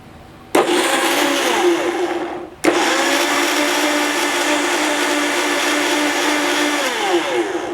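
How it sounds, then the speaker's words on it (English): A Vitamix blender blending cherries whirs loudly and close, switching on abruptly, cutting out briefly, then restarting and grinding steadily on its own with no talking. "I'm just going to turn this on, and it's going to be very loud"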